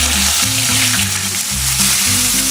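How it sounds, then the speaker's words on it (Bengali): Pieces of catla fish fry in oil over medium heat, making a loud, dense, continuous sizzle close up with no talking. "মাছগুলো আমি মিডিয়ামতে সুন্দর করে লাল লাল করে ভেজে নেবো"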